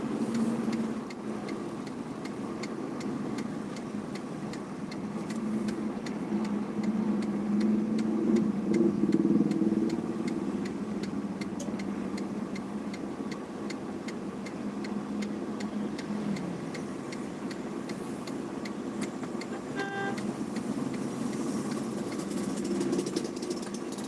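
Congested traffic on a busy Ramadan street-food road in Banda Aceh at dusk, a continuous low rumble of idling engines with steady ticking and mild crowd murmur, fairly close and unchanging throughout.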